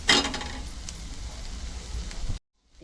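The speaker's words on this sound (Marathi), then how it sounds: "आता टमाटे पण टाकून घेते तुमच्या. सगळं आता थोडं भाजू दे" Tomatoes and spices fry in a pan for a Maharashtrian matki usal curry, a steady close sizzle with faint stirring clinks for a couple of seconds before cutting off.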